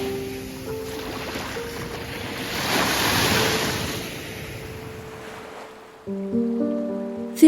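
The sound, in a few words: waves at a sandy beach in Villasimius, Sardinia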